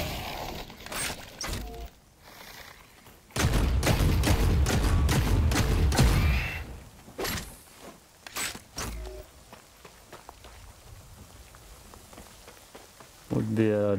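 Heavy storm rain pours in The Cycle: Frontier, a loud dense wash that swells and fades, broken by sharp gunfire cracks and footsteps, with someone talking at times.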